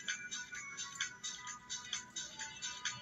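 A phone ringtone rings in repeated short melodic bursts, a steady electronic pattern that sounds somewhat distant and moderately loud against quiet background noise.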